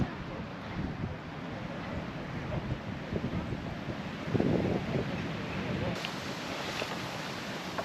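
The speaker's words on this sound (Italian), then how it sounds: "c'è una leggera bava di vento che fa percepire anche qualche grado in meno" Steady outdoor wind rumbling against the microphone, with a faint wash of distant background noise and a brief gust near the middle.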